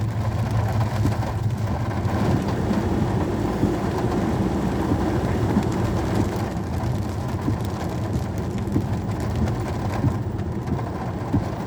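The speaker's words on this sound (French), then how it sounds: "L'orage, il est là" Heavy rain pours steadily with low rumbles of thunder during a thunderstorm, heard from inside a car as a dense, even roar throughout.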